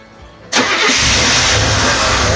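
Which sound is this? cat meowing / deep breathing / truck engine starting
truck engine starting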